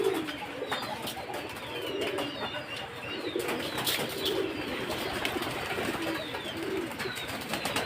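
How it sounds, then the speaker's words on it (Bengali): Pigeons in a rural Bangladeshi village loft flutter down and peck at feed nearby, soft wing flaps and scattered pecking taps over a steady outdoor hiss, with a faint coo or two. "এখন নামতেছে, 2-1টা করে নামতেছে কবিতরগুলো"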